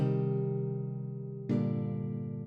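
Two ringing strummed minor chords on a bright, shimmering General MIDI twelve-string guitar, the second struck at the halfway point and left to sustain.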